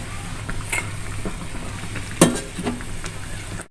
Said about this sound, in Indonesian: Guys, sudah mendidih ya, kita masukin sayurannya ya guys.